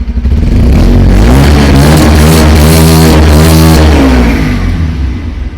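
A 2025 Bajaj Pulsar 125 Neon motorcycle engine revs hard and loud, climbing in pitch then dropping back, with a heavy throaty exhaust roar throughout.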